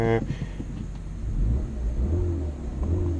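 A Citroën DS3 THP 156, a city car, idles close by with a steady low engine rumble and faint rises in revs; a voice speaks briefly over it.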